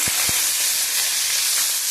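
Hilsa fish lightly frying in a wok gives a steady, close sizzling hiss, with two short low thumps near the start and no voices.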